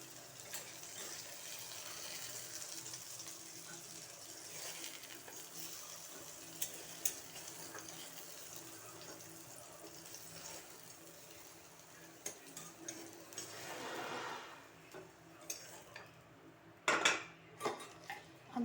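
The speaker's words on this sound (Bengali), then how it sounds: "এবার আলুটা ভেজে নামিয়ে রেখে দেবো" Potatoes fry in a pan, a steady low sizzle with occasional scrapes and clinks of a utensil against the pan, growing busier toward the end.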